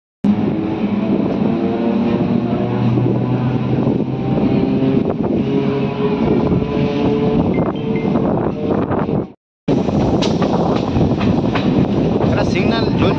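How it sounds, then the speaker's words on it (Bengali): A local passenger train rolls away from a station crossing, a loud continuous rumble with wheel drone and wind buffeting the microphone, cut by a brief dropout before the noise resumes. "প্রায় 20 মিনিট দাঁড়িয়ে থাকার পর ট্রেন অবশেষে ছাড়লো।"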